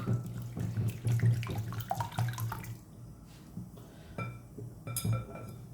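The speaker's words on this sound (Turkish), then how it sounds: "Bir su bardağı süt ilave ettim." A cup of milk is poured into a bowl of beaten eggs for gözleme dough: a soft, splashing liquid pour for about three seconds, followed by quieter faint clinks and drips, with no talking.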